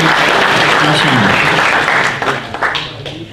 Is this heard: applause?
yes